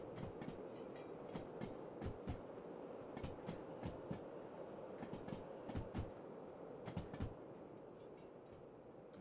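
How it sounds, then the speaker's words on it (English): A massive freight train of over 3,500 tons hauled out of a harbor in the Derail Valley simulator rolls steadily past, its wagons giving off a continuous rumble with regular sharp clicks of wheels over rail joints. "This is a massive train, guys."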